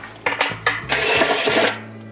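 A screwdriver backs screws out of a Samsung washing machine, giving close, short clicks and scraping twists followed by a longer grinding turn, with no talk.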